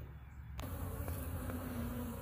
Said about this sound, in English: The bees are a little bit agitated.